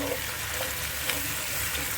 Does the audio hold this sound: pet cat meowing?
no